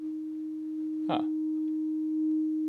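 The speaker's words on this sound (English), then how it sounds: "there's our sine wave" A steady pure sine wave tone from an Intellijel Shapeshifter synthesizer module hums throughout at an even pitch, with a brief soft noise burst near the middle.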